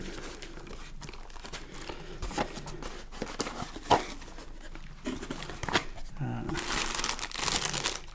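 A recyclable plastic pouch from a Kayali Lovefest Burning Cherry perfume package crinkles and rustles in irregular bursts as it is unwrapped close by, with a voice speaking underneath.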